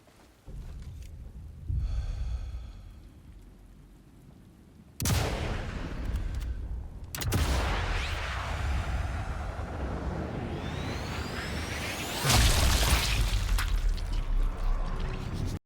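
Sharp sniper rifle reports from the Sniper Elite Resistance video game, about three loud cracks several seconds apart, each with a rolling echo tail over quiet game ambience.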